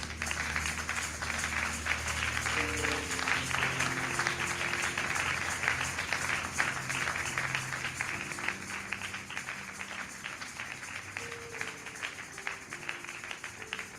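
A church congregation claps steadily and densely at a worship service, sustained applause over low music that holds for the whole stretch.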